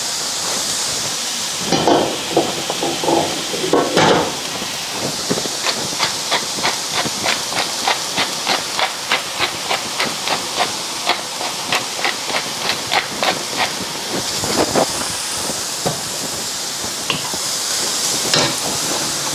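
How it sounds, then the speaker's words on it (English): Cauliflower rice sautéing in a pan makes a strong steady hiss, with a quick run of regular rhythmic scraping or stirring strokes through the middle. "So saute for a bit, and when you see that your cauliflower is turning to a bit of a brown color"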